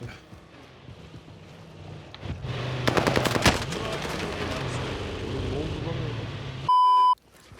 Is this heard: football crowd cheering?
no